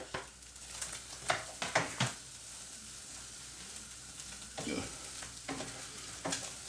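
Chilli beef with spring onions stir-fried in a pan, a soft sizzle under intermittent scraping strokes of a utensil, close but fairly quiet, with no talk.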